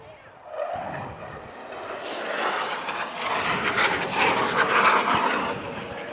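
A fast, sleek aircraft with a powerful motor flies and manoeuvres overhead, its broad engine roar building steadily louder and fuller as it passes close by.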